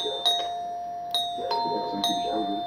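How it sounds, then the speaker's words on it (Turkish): A battery-powered wired doorbell chimes four times in bright, ringing tones, each strike fading before the next, fairly close and alone. "zil ötmeye başlamışım"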